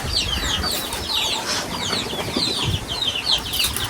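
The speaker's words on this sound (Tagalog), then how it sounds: "nakakapasok pa rin po ang manok" Chickens cluck and chatter close by at a fishpond farm, a busy run of short, scratchy calls with some wing flutter, heard alone without talk.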